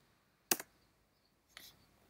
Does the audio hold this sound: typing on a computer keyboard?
yes